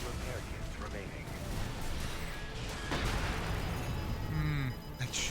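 Heavy shoulder-mounted cannon blasts from a mech in the video game Armored Core 6, booming bursts amid dense, loud combat noise throughout.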